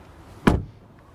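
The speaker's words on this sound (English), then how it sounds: "Then the door closing sound" A Mercedes-Benz GLC car door closing, a single solid thud heard up close against a quiet background.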